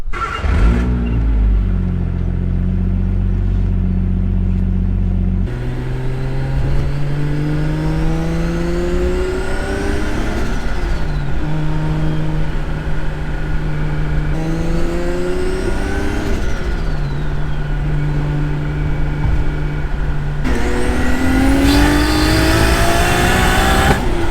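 A Nissan Laurel car engine accelerates hard through several gears, each pull rising in pitch before a brief drop at the shift; loud, close, with no talking.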